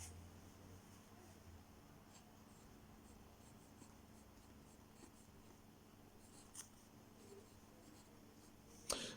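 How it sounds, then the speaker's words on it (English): A Jinhao 301 fountain pen, filled with black ink, writes on paper, its nib giving a very faint, quiet scratching with a few small taps and pen-lifts across several seconds, otherwise near silence. "So let's get on with the writing sample. I'll start off with the black one."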